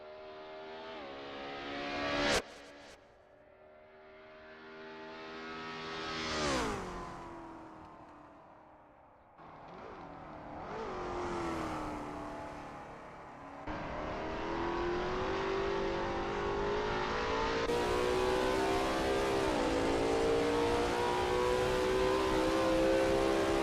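Lola T70 MkII Spyder race car at Sebring in a racing game, its engine revving hard through the gears with rising whines, sharp upshifts and a long sustained high-rev roar down the straight, loud and close with no talk.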